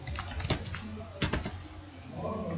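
Names are typed into an Excel sheet on a computer keyboard, giving a quick run of light plastic key clicks in uneven bursts, close and fairly soft, with a few quiet background sounds.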